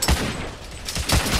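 Gunfire in The Order: 1886 comes as two loud, close bursts of shots, one at the very start and another about a second later, with a quieter rumble between them.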